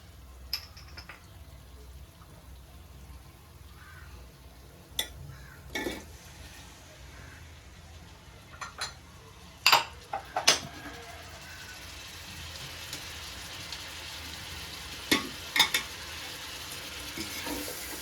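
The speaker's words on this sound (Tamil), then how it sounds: "இந்த ஸ்டேஜ்ல நம்ம தக்காளி சேர்த்துக்கலாம்." Tomatoes are stirred into a pan of ginger-garlic paste for vegetable biryani, frying with a soft steady sizzle broken by scattered clicks and scrapes of the spoon, close and fairly quiet.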